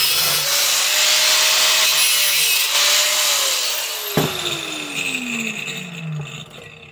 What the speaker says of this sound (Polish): Lecimy dalej oczywiście ze szlifierką.